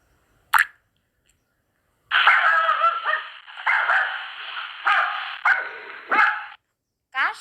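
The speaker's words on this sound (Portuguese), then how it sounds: "Cachorro." A dog barks in several loud, close yaps and yelps in quick succession, with short gaps between the bursts, standing alone with no talk.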